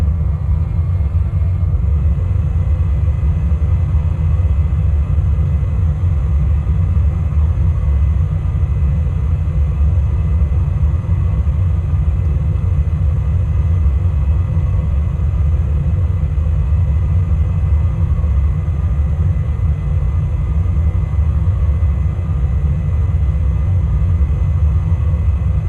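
Steady, loud engine rumble from an MD-82 airliner in flight in a flight simulator game, cruising near San Francisco at about 250 knots and 2,500 feet, droning evenly throughout with no breaks.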